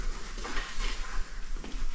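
Food fries in a small pan during a catch-and-cook outing, giving a loud, continuous hissing sizzle with occasional scraping and stirring clatter, close up and with no talking.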